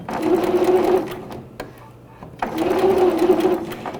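Sewing machine stitching the fabric of a simple bib while turning curves, running in two loud steady bursts with a brief pause between them as the needle stops in the fabric.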